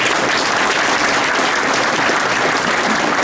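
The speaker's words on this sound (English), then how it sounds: "Give Sister Nusayba a round of applause." A crowd at a solidarity gathering at the Islamic Foundation in Villa Park applauds, a loud, dense, continuous wash of clapping with no voices over it.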